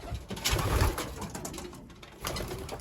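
Pigeons, a small flock of young and old birds, give soft low coos, a louder burst early, then quieter murmuring and another coo near the end, fairly close with no talking.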